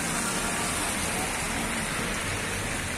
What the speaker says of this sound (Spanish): Se incrementa la lluvia en este atardecer acá en la ciudad de Cali